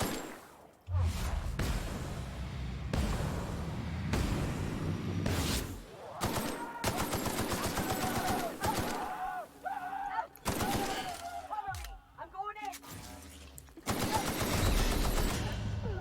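Rapid bursts of automatic gunfire from a weapon in the video game The Outer Worlds, loud and close, firing in repeated volleys with brief gaps between them.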